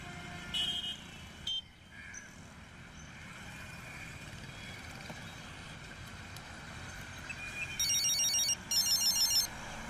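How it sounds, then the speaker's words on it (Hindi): A telephone rings faintly in short repeated electronic chirping bursts near the end, over a low ambient hum with no one speaking. "भाई उसी का फोन होगा, उठाना मत।"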